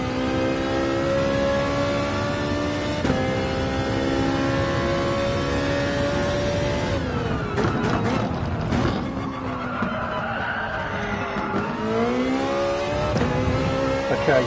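A racing car's engine drones steadily in a driving game at the Red Bull Ring, with a sustained high whine that dips and climbs through gear changes and throttle lifts as the car starts to slide, loud and continuous.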